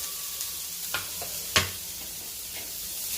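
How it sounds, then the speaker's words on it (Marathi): Fresh grated coconut roasts in a pan with a low, soft sizzle. A few scraping stirs land on it, one of them a sharper scrape, and no one talks. "खोबऱ्यालाही भाजून घ्यायचं आहे। ओलं खोबरं घेतलेलं आहे मी।"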